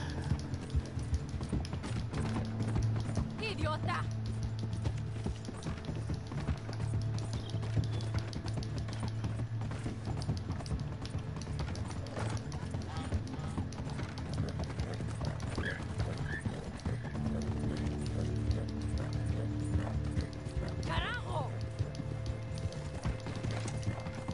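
Horse clip-clopping at a steady gait with hoofbeats continuing throughout and a few neighs, from the Red Dead Redemption 2 Online video game, a rhythmic moderate-level background with no talk over it.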